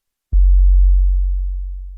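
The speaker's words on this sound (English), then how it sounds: "So that is the basic sort of fundamental tone of the 808." Synthesized 808 bass tone: a single deep sustained sine-like note starts with a soft attack after a brief silence, then rings steadily and slowly fades over about two seconds, alone with no other sounds.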